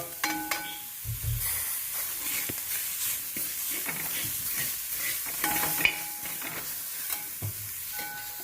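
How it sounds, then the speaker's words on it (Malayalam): Curry leaves hit hot oil in a frying pan alongside coconut and salt, giving a steady close sizzle with stirring scrapes and brief crackles throughout, no talking. "അതിനുശേഷം കറിവേപ്പില ഇട്ട് കൊടുക്കുക"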